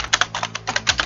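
A computer keyboard clatters close by: about eight quick, crisp keystrokes in an uneven rhythm within a second.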